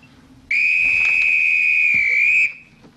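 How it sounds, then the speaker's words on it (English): A single sharp whistle blast, shrill and steady, rings out close and loud for about two seconds during a training session, then cuts off abruptly. "Now, the next time you hear this whistle,"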